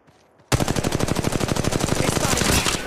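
A sudden, steady burst of rapid automatic gunfire from Apex Legends Mobile, with evenly spaced loud shots coming fast and unbroken for over two seconds after a brief quiet start.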